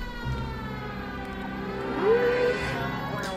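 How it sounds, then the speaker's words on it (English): Police car siren in the L.A. Noire video game on PS4, a steady wailing tone over a low engine rumble and game music, rising slightly in loudness midway. "Oh yeah, we're going Sirens on for this one."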